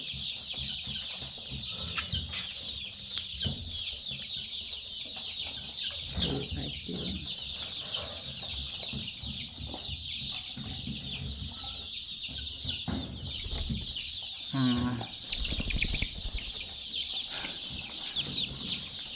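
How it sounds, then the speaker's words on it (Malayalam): Chickens clucking in a poultry farm shed with growing chicks, a steady dense chatter of hens throughout, with a brief burst of louder squawks and some handling noise near the middle. "നമ്മുടെ കോഴികളുടെ അപ്ഡേഷനാണ് കേട്ടോ നമ്മൾ ഇന്ന് കാണിക്കാൻ പോകുന്നത്"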